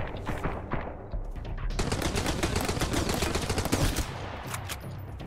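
Shotgun blasts ring out in the survival game Sunkenland, with a few single shots followed by a long stretch of dense, rapid gunfire from about the two-second mark. The firing is loud and close, and no one speaks.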